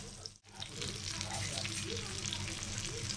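Dried fish (karuvadu) frying in a pan gives a steady, dense sizzle that starts after a brief gap and keeps going at an even level, with a voice talking over it.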